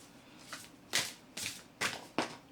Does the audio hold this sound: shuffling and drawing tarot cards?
yes